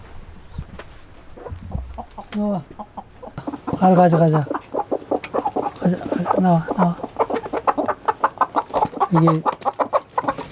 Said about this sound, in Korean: 이번엔 닭장입니다.